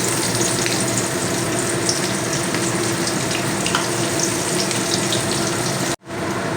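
Sliced onion fries in hot oil for a Bengali doi katla, a dense, loud and constant hiss that runs unbroken, then cuts off abruptly near the end before returning faintly.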